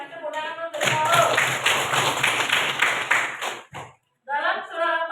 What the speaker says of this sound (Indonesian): kasih tepuk tangan untuk Sarul.